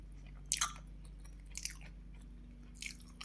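Someone eating bread for breakfast, chewing close up, with three short bursts of soft crunching and mouth sounds against a quiet background hum.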